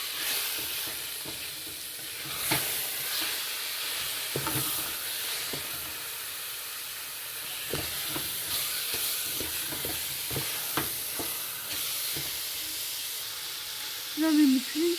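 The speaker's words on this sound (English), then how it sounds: "Now we're mixing." Spoon stirring chopped carrot halwa in a pan, a steady background sizzle broken by scraping strokes at an irregular pace, with a brief louder scrape near the end.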